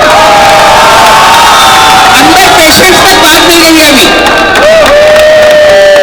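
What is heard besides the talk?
standing audience applause and cheering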